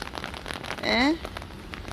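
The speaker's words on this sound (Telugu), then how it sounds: "ఇదిగోండి చూడండి ఎలా వాన కురిసేస్తుందో, గాలి వాన తన ఇష్టాసారాన్ని కురిసేస్తుంది." Steady windy rain in Dubai patters and hisses on a surface, with a brief rising chirp in the middle.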